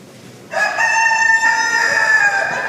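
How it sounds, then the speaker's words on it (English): A rooster crows once, loud and close, a long drawn-out call lasting about two seconds, with no other voices. "Chickens!"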